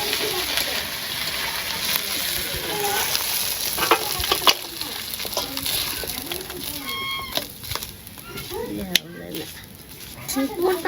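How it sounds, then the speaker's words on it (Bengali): Fish and onions fry in hot oil in a village kitchen, a continuous crackling sizzle with occasional stirring clatter, while a person talks and birds chirp in the background. "চরচরার মাছ আর পেঁয়াজ ভেজে নিলাম"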